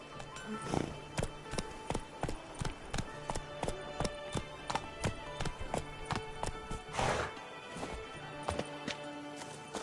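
Roach, the horse in The Witcher 3: Blood and Wine, gallops with steady, close clip-clopping hooves in a quick rhythm, a brief neigh rising partway through.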